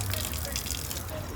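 Spring water gushing steadily from a drinking fountain at an outdoor spring, a constant low splashing rush that runs unbroken and fairly faint.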